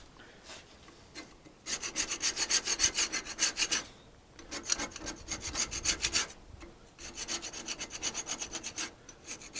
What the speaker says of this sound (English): I'm going to get a scraper and get that.